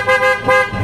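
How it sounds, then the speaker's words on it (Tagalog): Two loud, blaring blasts in quick succession from a Pia car horn on a Suzuki Dzire, close by, each a harsh sustained tone. "ito yung output ng ating Pia horn"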